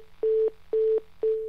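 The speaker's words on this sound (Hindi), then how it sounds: "इनका फोन कट गया है" A disconnected-call tone on a phone line during a live TV interview: three steady beeping pulses in an even rhythm, clear and fairly loud.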